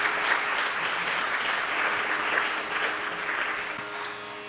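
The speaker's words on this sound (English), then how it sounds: "Let us have one round of applause for these talented orchestra members" An audience applauds orchestra members at an indoor performance event, sustained dense clapping that holds steady and tapers slightly toward the end, with no talk over it.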